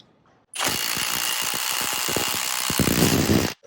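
A 3/8-inch impact wrench tightens a bolt in one sustained, loud burst of about three seconds, with a rapid hammering rattle that runs steadily before cutting off abruptly.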